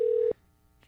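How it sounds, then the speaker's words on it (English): A telephone call trying to connect: one steady ringback tone that holds loud, then cuts off sharply, followed by near silence and a faint tonal blip at the end. "Why does it look like he picked up, but it's still ringing?"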